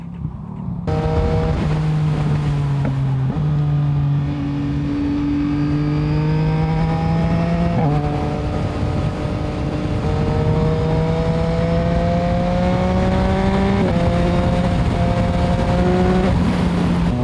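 A Yamaha MT-09 SP motorcycle engine under way, a loud steady drone that rises and falls through several gear changes, with a brief dip at each shift, heard close throughout with no talking.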